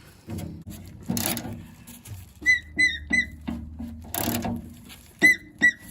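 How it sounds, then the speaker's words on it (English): An old 1964 MGB gas tank fitting squeaks in a series of short, high, chirping bursts as a 15 mm wrench works it loose, close and fairly loud, mixed with scraping and clunks. "It's squeaking."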